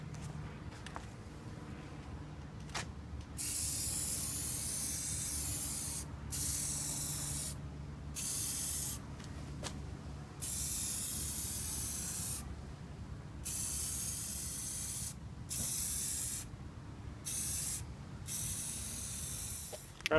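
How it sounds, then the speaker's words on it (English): Bursts of removable spray paint hiss from an aerosol can onto a van, loud and close, starting and stopping repeatedly in short and long blasts with brief silent gaps between. "So I'm going to just spray paint my car with it"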